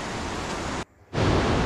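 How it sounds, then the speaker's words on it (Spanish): A river rushes beside a forest path leading toward waterfalls as a steady, broadband roar of flowing water. It cuts out briefly and returns louder, with no voices. "suena a río, ¿no?"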